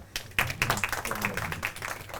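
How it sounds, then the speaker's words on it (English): Audience at an academic congress session giving a presenter a brief round of applause, scattered claps of moderate loudness that fade out within a couple of seconds. "Now, have a big clap for her"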